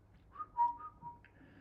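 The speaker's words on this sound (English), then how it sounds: "Me just whistling into your cam so you can't hear anything" A person whistles right into a nearby microphone, a short quiet run of several wavering notes rising in pitch at the end, heard alone.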